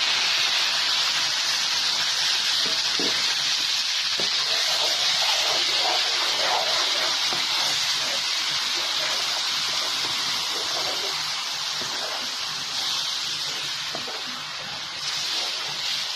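Tomatoes added to sizzling ginger and garlic paste in a pan for muttar paneer masala, giving a loud, steady hiss of frying that dominates throughout with faint clinks of stirring underneath.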